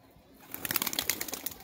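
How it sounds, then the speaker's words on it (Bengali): A high-flying pigeon is grabbed by hand, and a burst of rapid wing flapping and fluttering starts after a quiet moment, close and loud, with rustling bird movement. "দেখুন পায়রাটাকে ধরছে ভাই"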